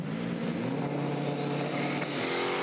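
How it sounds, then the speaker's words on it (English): A Lamborghini and a Ford Mustang launch side by side at a Santa Pod drag strip, a loud continuous roar of revving engines with rising pitch as the cars pull away. "So cool to see a Lambo racing against a Mustang."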